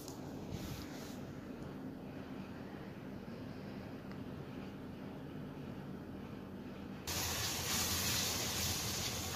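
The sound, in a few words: onions frying in hot oil and ghee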